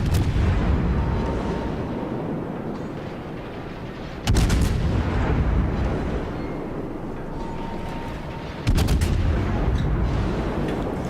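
Warship guns in World of Warships fire armor-piercing salvos. Two sharp booming volleys land about four seconds apart, and each rolls off into a rumbling wash of battle noise.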